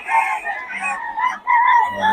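Loud, near crowing from roosters among clucking chickens at a Bocaue market, two long drawn-out crows with a brief dip between them and faint talk in the background.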